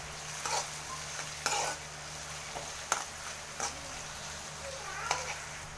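Ginger stirred as it fries in a home kitchen pan while cooking yellowfin escabeche, a steady soft sizzle broken by several sharp scrapes and clinks of the utensil against the pan, with a low hum underneath.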